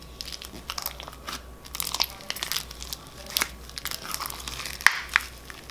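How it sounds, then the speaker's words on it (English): Crisp crackling and crunching squishes, quiet and close, coming in irregular bursts with a few sharper pops. "And listen to that crunch."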